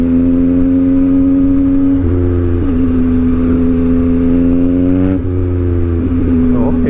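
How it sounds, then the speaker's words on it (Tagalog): A mini truck's engine labors hard climbing a stiff stretch of road in Davao City, a loud, steady low drone with a brief dip in pitch as it strains, heard close and continuous without talk. "Hirap na hirap ang truck,"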